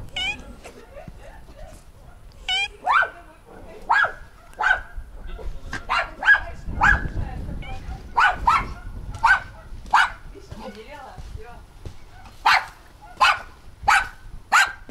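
Several sharp, high dog barks and yips come in bursts, with brief talk and other rustling underneath.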